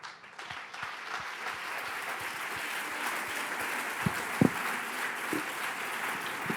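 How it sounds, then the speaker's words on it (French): An audience applauding at a conference talk on accelerating the transition, a steady dense wash of clapping hands with a few louder individual claps standing out, sustained throughout. "Vous pouvez les applaudir."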